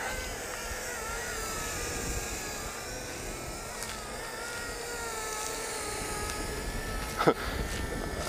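A Helifar H816 selfie drone hovers outdoors with a thin, whining rotor buzz of several steady tones, faint and fairly distant, over soft wind noise, with a brief louder bump near the end.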